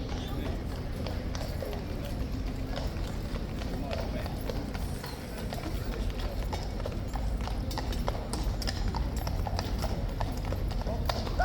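Horse hooves clip-clop continuously on pavement at the King's Guard change in London, with a crowd murmuring and people talking over the steady, nearby hoofbeats.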